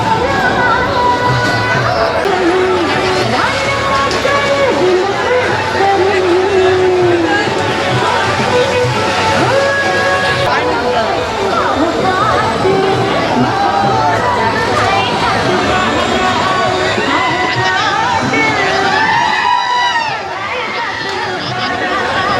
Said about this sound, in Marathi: इथं आहे बघता कशी गर्दी जमले बाई कशी गर्दी जमले